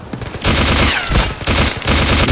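Rapid, loud automatic gunfire from the mobile shooter game Delta Force Mobile rattles in continuous bursts with short gaps, close and dominant with no talking.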